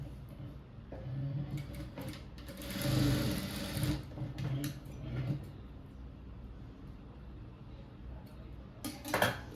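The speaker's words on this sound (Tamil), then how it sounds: "டபுள் ஸ்டிச் வேணாலும் ஓட்டிக்கோங்க." Sewing machine stitching a seam on a three-dart blouse, heard as short, quiet mechanical whirring runs with clicks and handling noises between them, one louder stitching burst near the middle and no talking.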